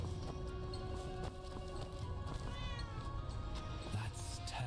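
A cat in the video game Where Winds Meet meows several times, moderately close amid a dense game soundscape with hoof clops and ambient noise.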